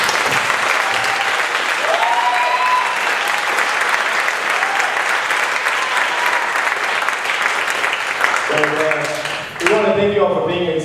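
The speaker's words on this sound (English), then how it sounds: "So give them a round of applause, please." Audience applause for a student jazz band after a concert performance, a sustained dense wash of clapping filling the room, with scattered voices and whistles rising near the end as the applause continues.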